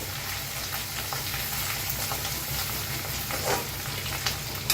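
Turmeric roasts in hot oil in a pan before cabbage goes in, a steady close crackling sizzle with a few stirring clinks near the end and no speech.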